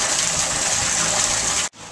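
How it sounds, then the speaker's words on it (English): Water gushes loudly and steadily as an aquaponics bell siphon drains a 300-gallon tank, a dense continuous rush that cuts off abruptly near the end. "And the siphon is fully kicked on. You can see the amount of water coming out of it."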